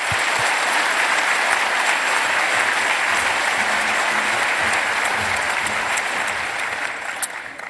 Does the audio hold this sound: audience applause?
yes